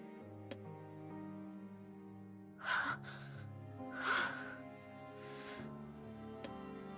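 A girl in the NieR Reincarnation video game breathes raggedly over a soft sustained musical tone, with two or three loud, rough gasping breaths standing out close and clear.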